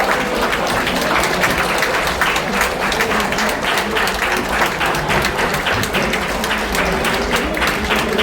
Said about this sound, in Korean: 여러분 보좌진 분들에게 커다란 박수와 격려의 박수 부탁드리겠습니다.